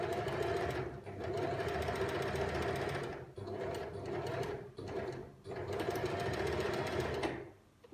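A sewing machine stitching fabric beside a basting thread runs in fast, steady mechanical bursts, with several short pauses between runs before stopping near the end.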